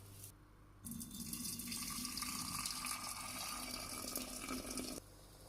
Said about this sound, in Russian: напиток выключаю и горячим разливаю в банки